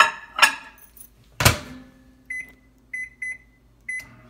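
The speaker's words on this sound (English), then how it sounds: "I will have to melt my butter in the microwave or on the stovetop" A microwave oven melting butter gives a door clunk and a button beep, then a steady low hum, and a run of short electronic beeps near the end.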